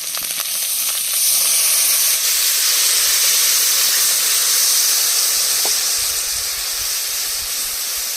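Tamarind-leaf sour soup with small puti fish, mustard and cumin paste, boiling in a pot, giving a steady, loud hiss and bubbling simmer that runs unbroken throughout.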